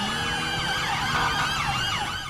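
Fire engine siren in the video game GTA V, a loud continuous wailing sweep rising and falling over a low engine rumble, steady and close throughout.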